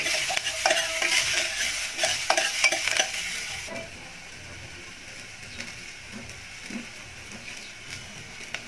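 Onion and garlic hit a hot pan for a monggo and ampalaya-leaf ginisa, giving a loud, bright sizzle with quick stirring scrapes for about four seconds before it fades to a softer, quieter simmer.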